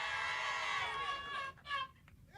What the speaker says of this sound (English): Well, what a crowd in Tabernacle